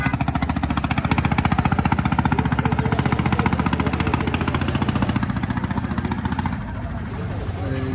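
A trawler boat's engine chugs loudly with a rhythmic low throb, running continuously and easing slightly near the end.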